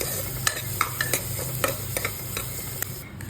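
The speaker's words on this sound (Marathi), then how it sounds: "एकदम व्यवस्थित एक कांदा परतवून घेऊया त्यामध्ये आपण हिंग टाकूया हिंग पण आपण व्यवस्थित परतून घेऊया" Onion and asafoetida sauté in a pan, giving a soft sizzle with several sharp scraping stir strokes from a utensil, fairly close and quiet, with no talking.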